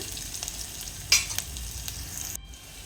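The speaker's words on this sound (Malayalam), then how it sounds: "അങ്ങനെ അരിഞ്ഞ് വെച്ചിരുന്ന ബീട്രൂട്ട് ഇട്ട് കൊടുക്കുകയാണ്" Chopped beetroot frying and being stirred in a pan, a steady soft sizzle broken by a few sharp scrapes and clinks of the spoon, close and fairly quiet, with no talking.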